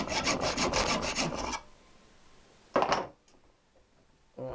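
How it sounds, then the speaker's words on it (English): A hand saw cuts a metal bracket near a nut during oil filter fitting, heard as a close, rough rasping burst of back-and-forth strokes, then a pause, a short further stroke and a final scrape. "I'm going to take this saw cut down to just past that nut"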